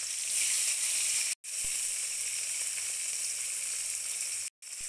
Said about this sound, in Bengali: তেলটা কিছুটা গরম হয়ে যাওয়ার পর পেঁয়াজ কুচিগুলো দিয়ে দিয়েছি